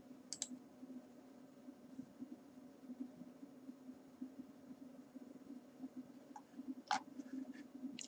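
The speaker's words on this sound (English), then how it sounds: "Click OK to run the tool" A few sharp, isolated computer mouse clicks spaced across several seconds of quiet room hum, with a small cluster of clicks near the end and no talking.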